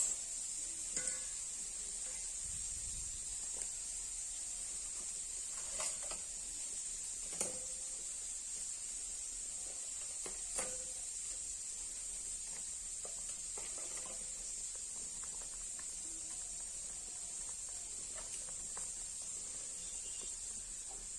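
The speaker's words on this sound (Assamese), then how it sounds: "এয়া আমাৰ টেঙা তৰকাৰী ভক উতলি আছে" A pot of sour fish curry made with star fruit (karadoi) simmers with a faint, steady hiss and bubbling, along with a few soft clicks from the pot.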